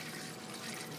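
VC9 iron-out cleaner being poured into a Ford Taurus radiator, a faint, steady liquid trickle and gurgle heard close up for about a second, with no voices.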